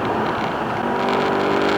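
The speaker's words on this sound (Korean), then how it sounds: "4000rpm을 넘어설 때, 넘어서면서 그 들리는 엔진음이 참 매력이 있습니다" A Ford Mustang engine roars loudly and continuously while accelerating hard past 4000 rpm, a dense rough growl heard from close by with no talking.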